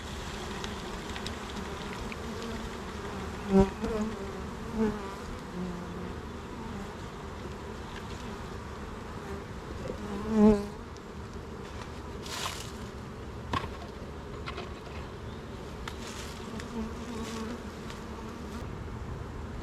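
Honey bees buzz in a dense, continuous drone during a beehive inspection, close and steady throughout, with a few brief knocks and rustles from handling the hive.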